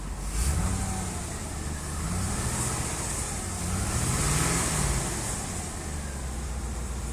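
A 1990 Chevrolet Corvette ZR-1 idling, heard from a short distance as a steady low engine drone with a faint rise and fall and broad hiss, with no talking.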